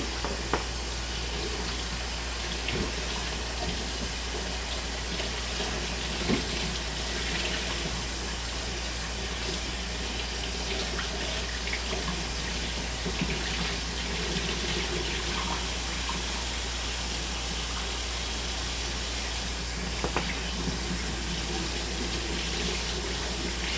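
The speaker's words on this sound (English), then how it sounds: "let me rinse my wash rag." Water from a kitchen tap pours steadily into a sink as a wash rag is rinsed, a constant even rush with a low hum beneath it and small splashes and handling bumps throughout.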